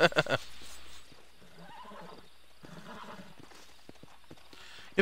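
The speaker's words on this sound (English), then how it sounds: "the horse always is a little anxious when you start skinning stuff" A horse in Red Dead Redemption 2 whinnies anxiously while a carcass is skinned, a couple of faint, wavering neighs with a few soft hoof sounds and brief louder noises at the start and end.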